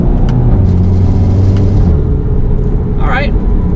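Volkswagen Mk7 GTI accelerating hard in second gear with its tires spinning, a loud, steady engine drone and road rumble filling the whole stretch, while a brief rising whine sounds near the end.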